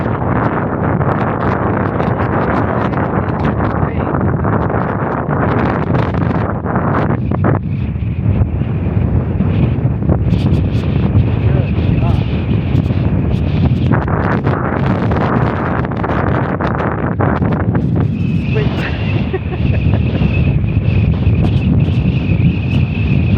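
Strong, cold Antarctic wind buffets the microphone in a constant, roaring rumble for the whole stretch, loud and close, with no voices.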